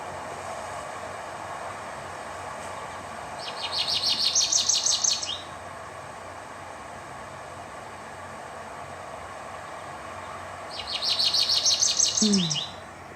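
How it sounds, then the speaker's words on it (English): American goldfinch song in two bursts of rapid, bright high twittering several seconds apart, over a steady low background hum. "So that is the sound of the American goldfinch."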